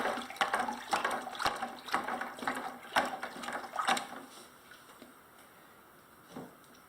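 Graco X5 airless paint sprayer pumping water through its prime tube after the paint is flushed out, giving a rhythmic series of gurgling, splashing pulses that slow and fade toward a quieter hiss at the end.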